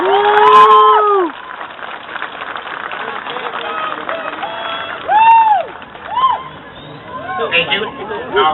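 A high school graduation crowd in Anaheim, California whoops and cheers, with loud rising 'woo' shouts and clapping, then quieter chatter, and a second burst of cheering later.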